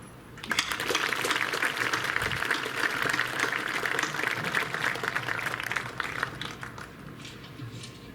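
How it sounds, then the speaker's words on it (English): An outdoor graduation crowd in a stadium claps for the seniors: a steady, dense wash of distant clapping that holds for several seconds and then thins toward the end. "Let's all give a round of applause and recognize the seniors who couldn't be here with us today"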